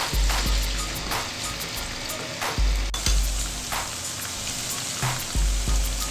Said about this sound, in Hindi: लहसुन और अदरक का पेस्ट लाइट सा फ्राई हो गया